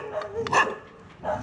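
A dog on a Mumbai street at night gives a few short barks and yips within a second and a half, close and fairly loud amid background street noise.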